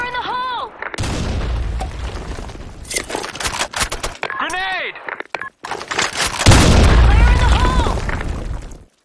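A grenade goes off in a video game amid a busy firefight: booming blasts and bursts of gunfire come loud and close, with voices calling out between them.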